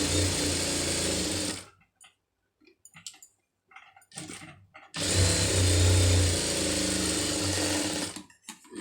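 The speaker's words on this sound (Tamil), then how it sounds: "எடுத்து விட்டு தையல் மாத்திரம் ஓட்டுங்க" A sewing machine stitching a puff sleeve with a silk border runs in two loud, steady bursts, separated by a quieter stretch of handling and small clicks.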